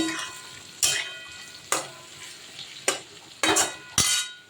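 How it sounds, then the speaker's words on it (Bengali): Spices and turmeric are stirred and fried in hot oil in a pan for a rohu fish curry with potato and drumstick, giving a steady sizzle broken by several sharp spatula scrapes against the pan. "খানিকক্ষণ তেলে নেড়ে নিলে না গন্ধটা ভালো বেরোয় তাই একটুখানি তেলে নেড়ে"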